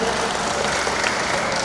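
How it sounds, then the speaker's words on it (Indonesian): A crowd at a Toraja weaving event applauds in a dense, continuous wash of clapping, loud and sustained throughout with no distinct individual claps. "Tepuk tangan buat Toraja."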